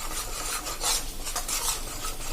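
Roasting flour and cream mixture for jaggery mohanthal is stirred steadily in a pan over a slow to medium flame, producing close, continuous gritty scraping and rubbing strokes.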